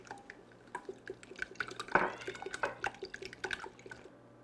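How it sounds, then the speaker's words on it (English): A quarter cup of milk poured into beaten large eggs for French toast, heard as a run of small, close liquid splashes and drips with one brighter splash near the middle. "I'm going to add 1/4 of milk. It's 1/4 cup of milk."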